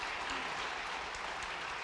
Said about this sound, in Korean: 우리 뜨거운 마음으로 격려하고 환영하며 박수하겠습니다